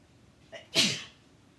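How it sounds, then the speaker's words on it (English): A single loud sneeze, preceded by a brief sharp intake of breath, followed by quiet. "I have to sneeze, I'm sorry."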